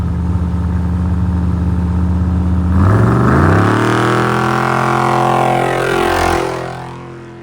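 Off-road race vehicles launch in desert race qualifying between Las Vegas and Reno: a steady engine drone suddenly swells into a loud, rising rev as a vehicle takes off nearby, climbing in pitch before fading away.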